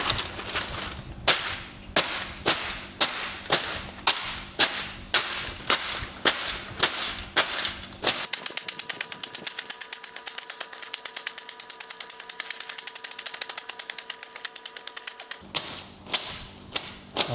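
Crab shells crushed by hand, sharp repeated cracks and crunches in a steady rhythm, close and fairly loud, with a stretch of rapid rattling crackle in the middle before the separate blows resume.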